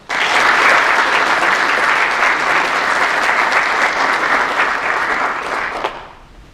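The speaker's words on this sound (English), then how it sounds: "Ladies and gentlemen, please join me in giving the award recipients a round of applause" Loud, dense applause from an audience honoring award recipients at a Border Patrol graduation ceremony fills the hall steadily, then thins and fades out over the last second.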